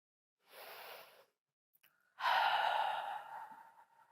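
A close, soft intake of breath followed after a pause by a longer, louder exhalation that fades out, taken during a guided meditation.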